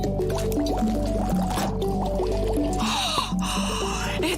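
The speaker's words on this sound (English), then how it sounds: "It's bubbling!" Liquid bubbling and gurgling up in a container, a run of wet pops and drips close by, with a brief hiss of fizzing near the end.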